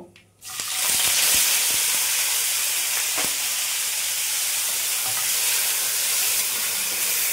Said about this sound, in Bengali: এটাকে ভালোভাবে ভেজে নিতে হবে। কাঁচা আমটা এখানে দেব।